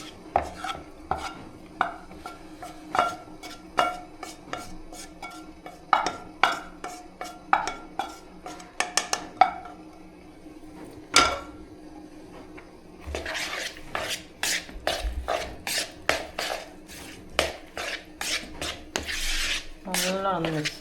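Macaroni being stirred with masala in a pan, a spoon scraping and clinking against the metal in quick uneven strokes, with a busier rattling stretch of scraping toward the end, close and fairly loud with no talk.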